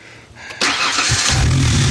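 A 1993 Ford Explorer truck engine with a no-start problem cranks briefly, then catches and settles into a loud, steady rumble close by.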